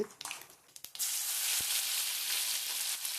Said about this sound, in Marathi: त्याच कढईमध्ये तेल टाकते भाजीसाठी। थोडीशी जिरे टाकते। हे कांदा खोबऱ्याचं वाटण टाकते।